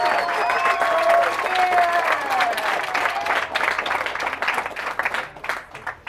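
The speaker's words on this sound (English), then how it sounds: "I think we should do a nice round of applause" Wedding guests give a warm round of applause, a dense, steady clapping from a crowd that continues throughout and thins slightly toward the end.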